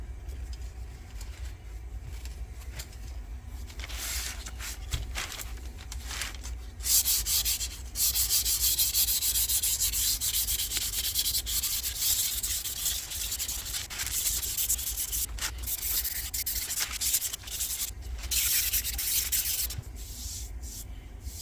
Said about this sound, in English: You can already feel a big difference after just sanding this one coat down.